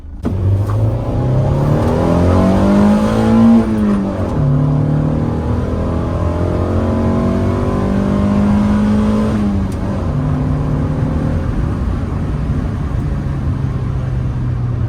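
An engine-swapped Honda Integra revs hard while driving on twisty roads, its loud engine climbing through rising and falling pitch sweeps with a steady rumble underneath, no talking.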